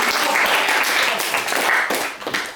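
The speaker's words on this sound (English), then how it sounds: "clap." Studio audience clapping during a live Philadelphia show, a dense burst of many hands applauding continuously and fairly loud for a couple of seconds, tapering at the close.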